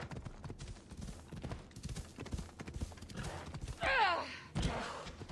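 Horse hooves clip-clop in Assassin's Creed Odyssey, a quick, even gallop of hoofbeats heard up close, with a louder rush of game sound near the end.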